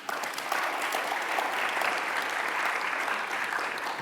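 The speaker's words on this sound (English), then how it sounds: "It's like, cue the clap." A studio-style audience claps steadily for about four seconds, a dense, even patter of many hands with no voices over it.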